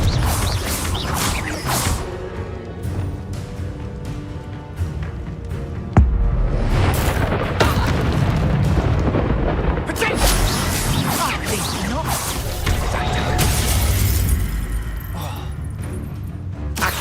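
A Confringo blasting spell in the Hogwarts video game: a sudden loud impact followed by crashing, whooshing bursts and rumbling debris over busy game sounds, with voices present.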